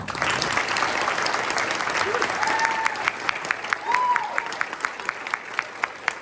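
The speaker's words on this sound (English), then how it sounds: "Please join me in congratulating our new members with a round of applause." A school induction ceremony audience gives new NHS members a round of applause, dense clapping that thins out toward the end into scattered individual claps, with a few voices and whoops mixed in.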